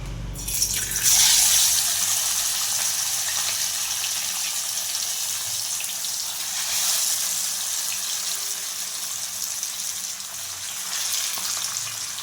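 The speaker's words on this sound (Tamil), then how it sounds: "கடாய் நல்லா சூடாகிடுச்சு. வந்து மீனை சேர்த்துக்கலாம்." Fish sizzling and spitting in a hot kadai, a steady bright frying hiss that swells at first and then settles into a constant sizzle throughout, with no talking.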